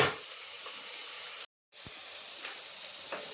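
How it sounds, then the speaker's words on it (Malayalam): Onion, carrot and green chili sauté in a pan with a steady hiss and sizzle, broken by a sudden brief silence before the frying sound resumes with faint stirring clicks. "നമ്മുടെ സവോളയും ക്യാരറ്റും പച്ചമുളകും ഒക്കെ ഒന്ന് പകുതി വഴന്നു വന്നിട്ടുണ്ട്"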